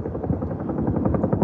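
Helicopter rotor chop pulsing steadily and loud overhead during a wildfire response near Truckee, a continuous rhythmic thudding with no talk.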